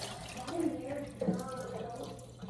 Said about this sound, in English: Just do it until the water runs clear.